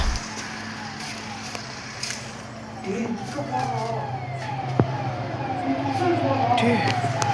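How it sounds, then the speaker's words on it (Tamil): An ambulance siren wails, rising and falling repeatedly at a distance, growing slightly louder, over steady traffic rumble and background noise. "Ambulance sound கேட்குதுடா."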